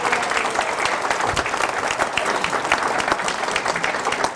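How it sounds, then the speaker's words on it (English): An audience at a church discipleship night claps to welcome a guest, a full, even burst of applause sustained throughout without a break. "please an applause for Brother Juan here"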